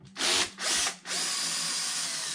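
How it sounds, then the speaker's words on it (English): A power tool gun unscrews bolts on a Losi Super Baja Rey RC car: two short whirring bursts, then a longer steady spin, close and loud. "So I have the gun set up to where it won't strip these bolts."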